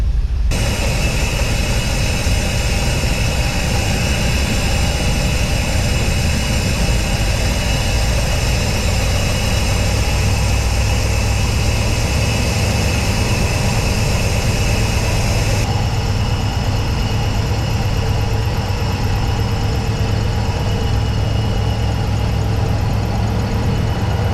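A Scout engine fitted with FiTech EFI idles steadily and loudly with a constant low rumble while its idle air control is adjusted; the tone shifts slightly partway through, with no talking.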